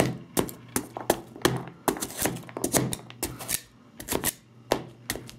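A knife chops carrots directly on an iPad fitted with an Invisible Shield screen protector, giving a rapid, uneven series of close, crisp taps and thunks, with no talking.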